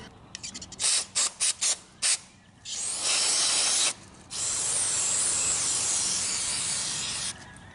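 Aerosol solvent sprayed into the carburetor of a small engine that is gummed up from ethanol fuel: several short hissing bursts, then two long, loud, steady sprays close to the can, with no talking.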